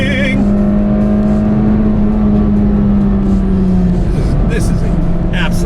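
A low-mileage Acura RSX Type S under way gives a steady, loud engine drone with a sustained tone, the car cruising close by and holding even revs throughout.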